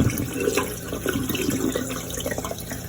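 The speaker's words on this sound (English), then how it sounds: "Turn the water on. And then you just pour the water" Water runs steadily from a tap, splashing and pouring into a pot of rice nearby without pause.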